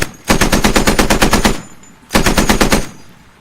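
A mounted machine gun in the video game Squad fires two loud sustained bursts, a long rapid string of evenly spaced shots, a short pause, then a shorter string close up with no talking.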